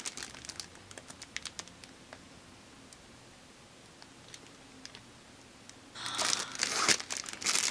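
A plastic baggie crinkles and rustles in short bursts, quiet and scattered at first, then turning loud and dense near the end as it is pulled open, with no talking.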